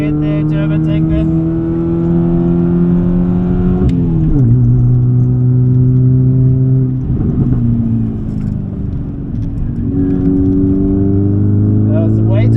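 A modified Ford Figo's engine revs hard on a race track, its harmonic drone rising and shifting with gear changes and throttle lifts, loud and close throughout while people talk over it.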